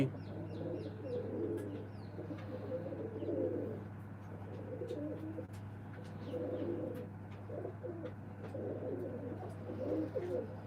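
Pet pigeons coo while eating grain in a cleaned, sanded loft: soft repeated cooing phrases over a steady low hum, faint and continuous with occasional light chirps.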